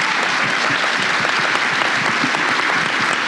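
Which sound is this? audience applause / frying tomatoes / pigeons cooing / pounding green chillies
audience applause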